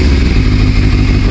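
A Yamaha Thundercat 600R motorcycle engine runs loudly and steadily close by, a dense continuous rumble, while a person talks over it.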